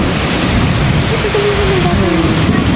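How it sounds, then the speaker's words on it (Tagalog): Heavy rain pouring down in a downpour at a cabin resort in Tagaytay, a loud, dense, continuous hiss filling the whole clip, with a faint voice briefly underneath. "Ulan."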